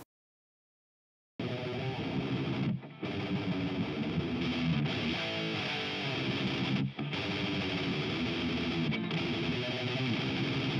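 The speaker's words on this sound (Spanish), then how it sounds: "Vamos a probar con este VH Handcraft, que es el VH4 de Diesel." Electric guitar played through the Diezel VH4 amp model in AmpliTube 5: heavy high-gain distorted riffing starts after a short silence and carries on loud and dense, broken only by brief pauses, with no talking.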